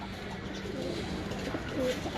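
Soft, low pigeon coos rise near the end over a murmur of background noise.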